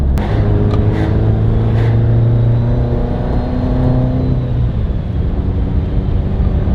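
A modified car's engine revs loudly and close, a deep sustained drone that holds steady and then eases off toward the end, with a few sharp clicks early on and no voices.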